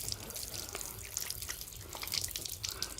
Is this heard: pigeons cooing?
no